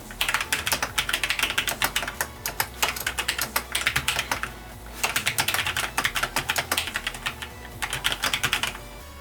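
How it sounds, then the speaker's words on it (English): Logitech G613 wireless mechanical keyboard with Romer-G switches, typed on in quick bursts of dense, crisp clicks, close and steady with short pauses between runs, no voices over it. "I'm going to leave you with a little bit of a typing test that I did."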